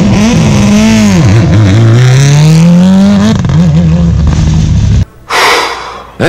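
A Subaru WRC rally car at a rally shakedown blasts past up close, its engine screaming loud as it revs and shifts up through the gears. The roar fades abruptly near the end, then a brief burst of gravel spray or wind.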